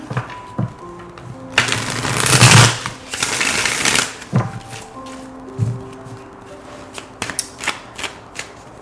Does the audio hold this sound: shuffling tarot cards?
yes